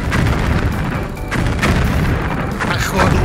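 Booming blasts from an ammunition depot detonating in the distance, a dense run of heavy thuds and rumbles rolling continuously under voices talking.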